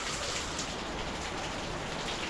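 Heavy rain pours down at night in Digos, with flooding on the road, a constant dense hiss of drops hitting surfaces that stays even and unbroken, with no voices.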